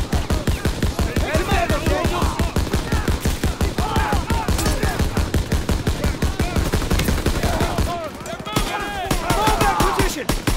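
Dense, continuous automatic gunfire from World War II weapons in Call of Duty: WWII, rapid bursts hammering loudly almost nonstop with shouted voices mixed in, a brief drop in intensity near the end before firing resumes.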